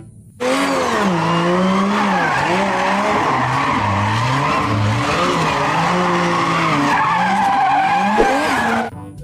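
A toy race car's racing and skidding sound effects play loud and continuous for about eight seconds, a whining engine tone rising and falling under repeated tire squeals, with no talking.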